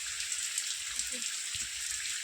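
Heavy rain pours down steadily in a village, a dense and even hiss of falling water with a faint low voice murmuring beneath it.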